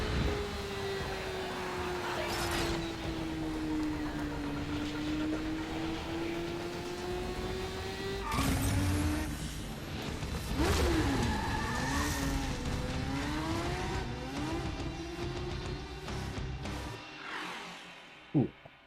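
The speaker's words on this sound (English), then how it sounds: "Motorcycle." A motorcycle engine in the video game Warframe drones steadily and loudly throughout, its pitch holding level, then rising and wavering as it revs partway through, with a few sharp game effects layered over it and a brief dip near the end.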